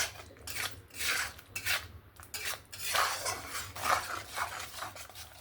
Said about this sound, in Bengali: এবার আমি মশলাটাকে ভালো করে কষিয়ে নেব পাঁচ মিনিট ধরে